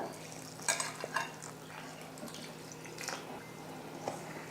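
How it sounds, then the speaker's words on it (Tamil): Rava dosa batter stirred with water in a bowl, giving soft wet swishes and a few light clinks of spoon against the vessel, close and fairly quiet. "தண்ணி சேர்த்து கட்டி இல்லாமல் கலந்து விட்டுடலாம்"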